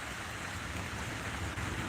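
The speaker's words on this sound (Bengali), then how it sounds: "বৃষ্টিটা আরও জোরে চলে আসছে" Heavy rain pours in a dense, steady hiss that holds evenly throughout, with no break or rise.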